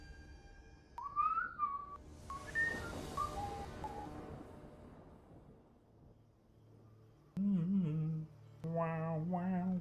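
Tin whistle notes rise and bend in short melodic phrases, then after a quieter gap come a few steadier sustained tones, fairly close and clear.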